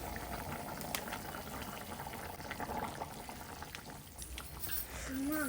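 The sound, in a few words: country chicken curry simmering on low flame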